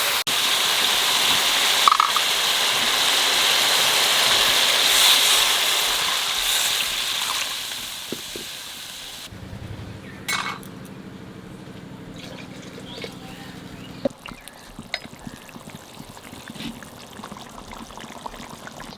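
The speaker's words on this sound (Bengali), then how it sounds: "মশলা কষানো হয়ে গেছে, এইবার জল দিয়ে দেবো।" Water poured into a pan of cooked-down spice masala for a pabda fish curry, a steady broadband pour for about nine seconds, then quieter bubbling and clinks from a spoon in the pan.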